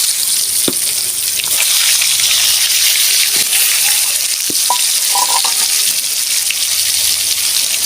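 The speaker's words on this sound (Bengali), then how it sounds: "হলুদ গুঁড়ো, নুন, পটলগুলো আমি ভালো করে ভেজে নেব।" Pointed gourd (potol) pieces frying in mustard oil with turmeric and salt, giving a loud, continuous sizzle close up with a few soft clinks of stirring and no talk.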